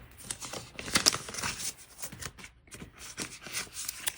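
A TV-shaped planner sticker is handled up close for a Hobonichi Cousin layout, giving soft, continuous papery rustling and crinkling with small peeling and rubbing sounds.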